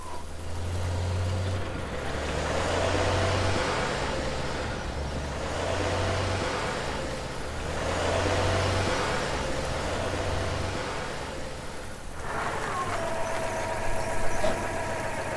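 A car engine idles steadily, with a low, even rumble and a faint rhythmic pulse throughout, heard alone with no talking.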